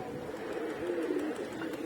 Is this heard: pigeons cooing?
yes